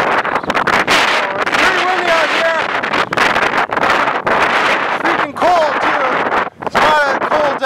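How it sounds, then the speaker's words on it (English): Strong wind roars over open snow at a winter campsite in the Manitous, a loud, continuous gusting rush with whistling tones that swell and dip and nearly drop out near the end. "just the wind is stealing all the heat"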